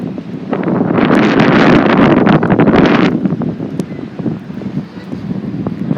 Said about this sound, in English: it's very, very windy out.